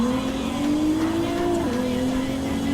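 Racing cars in Gran Turismo Sport, a Nissan GT-R GT Academy version passing a road-going Corvette and a Lamborghini Veneno: a steady, loud engine drone with rising and falling pitch, continuous throughout with no talk.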